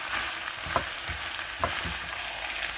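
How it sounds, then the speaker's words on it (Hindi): Vegetables and spices for chicken noodles sizzle in a hot pan while being stirred together, with a continuous frying hiss broken by a few sharper scrapes and clinks close by. "अब सारी चीज़ों को मिक्स कर लेते हैं"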